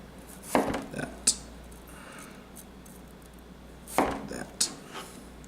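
A knife cuts thin, even slices of food on a cutting board for a Bloody Mary martini and salad: a few sharp, close chops in two small clusters with quieter gaps between, and no talk.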